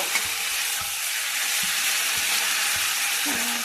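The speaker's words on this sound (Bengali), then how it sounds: "এটাকে আমি এখন অল্প ভাজা ভাজা করে নেব।" Potatoes and peas frying with tomato in a pan, a steady close hiss of sizzling oil broken by periodic scrapes and taps of a stirring spoon, no voices.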